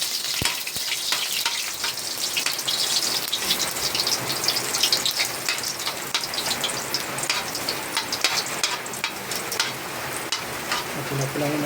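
Ginger sizzles steadily in a hot pan for chicken adobo sa gata, a dense, continuous crackling hiss close up with occasional stirring clatter.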